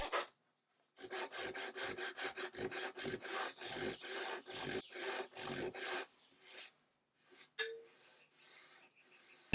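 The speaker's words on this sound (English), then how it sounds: "To remove the excess veneer, I used veneer saw that one of you sent me, and then I did a little bit of sanding." Hand veneer saw trimming excess veneer on an antique marquetry table: a run of rapid, even rasping strokes at close range, followed by looser, irregular sanding rubs with short pauses, no voices.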